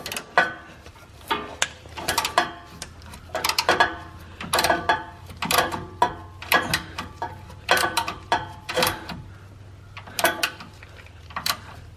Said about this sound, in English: the nuts on either side of these are 9/16, so I'm going to just go ahead and start loosening these now